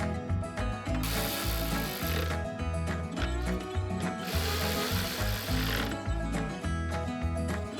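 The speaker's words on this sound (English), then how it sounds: "Now just put them two 10mm bolts back in." A hand ratchet tightens 10mm bolts on the tail light of a 2010–2014 Subaru Outback, with two bursts of rapid clicking separated by shorter, slower ratchet strokes, close and clear.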